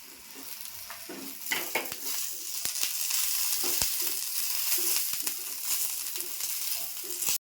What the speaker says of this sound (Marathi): ते थोडंसं भाजत आलं आहे ते मी थोडंसं तेल टाकते खोबरं तर छान भाजलं आहे